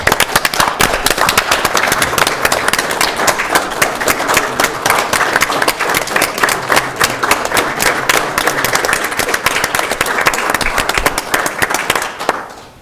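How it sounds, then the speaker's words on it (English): Loud, sustained clapping from a large crowd at a city council meeting, dense and steady throughout, fading out at the very end. "So I think we owe you guys a round of applause,"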